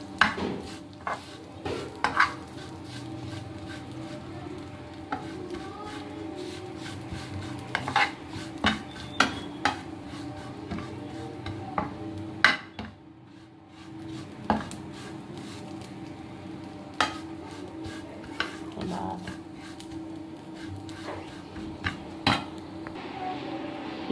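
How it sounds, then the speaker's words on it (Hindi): Vermicelli fries lightly in a pan, with a low sizzle under frequent clinks and scrapes of a metal spoon stirring against the pan, going on steadily for a long stretch. "अब इसके बाद इसको हम फ्राई करेंगे, हल्का हल्का इसको फ्राई करेंगे"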